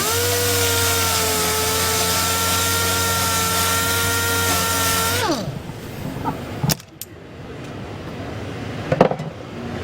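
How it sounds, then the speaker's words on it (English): A regular DA sander with 80 grit sandpaper smooths a spot weld area in collision repair, a loud steady whining drone for about five seconds that then winds down, leaving quieter shop noises and a few clicks. "we're going to finish off this area with some 80 grit sandpaper right on a regular DA"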